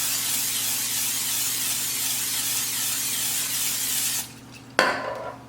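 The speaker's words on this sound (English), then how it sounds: "we're going to spray them with olive oil spray." Olive oil cooking spray misted onto vegetables, heard as a steady hiss for about four seconds, a short pause, then a sharper, brief burst of spray close by with no talking.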